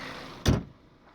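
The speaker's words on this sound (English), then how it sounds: "let me close the hood." The hood of a 2016 Chevy Malibu 2.0T Premier slams shut in a single solid thud close by, following a soft background hum that quiets afterward.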